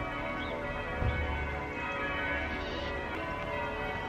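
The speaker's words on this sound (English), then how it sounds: "Listen to the church bells." Church bells ring steadily in a town in the New Forest, a dense wash of overlapping metallic tones that continues throughout at moderate loudness.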